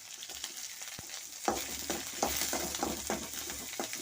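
Garlic frying in a pan for kurinja keerai soup, a soft crackling sizzle with small pops and a few stirring scrapes, faint and close, no talking.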